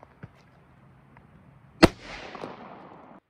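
A single sharp, loud SKS rifle shot cracks out during a ballistic test against a block of hard caulk, preceded by a couple of small clicks and followed by a brief decaying echo.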